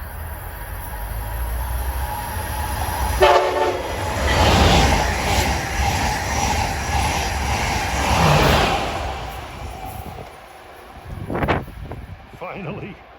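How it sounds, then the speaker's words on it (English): An Amtrak Acela express train rushes past a trackside spot at Tacony near Philadelphia with a loud rumbling roar and rail clatter, then sounds two short horn blasts as it recedes; a person talks over part of it. "Finally, I get a horn honk."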